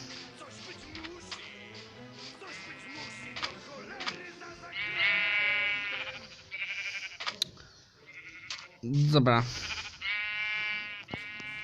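Sheep bleat repeatedly in a Minecraft game, clear wavering calls coming and going among other game sounds while someone talks over them.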